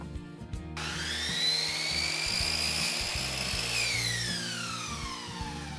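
A power miter saw spins up and cuts chair rail molding at an 11 1/4 degree bevel, a whining blade tone that rises as it bites the wood, then falls away as the motor winds down; close and loud.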